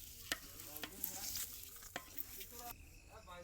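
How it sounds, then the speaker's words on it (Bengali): Raw rice being stirred and fried in a pot for a party biryani, with sharp scraping strokes of a spatula over a constant sizzle, several distinct stirs close up. "চাল দেওয়া হয়েছে, এখন নাড়তে আছে,"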